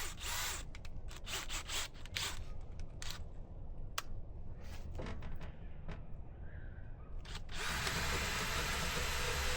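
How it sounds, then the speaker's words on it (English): Power drill with a metal drill bit drilling wood, whirring in short bursts with sharp clicks and stops, then a steady high whine near the end, close and moderately loud. "Drill some wood."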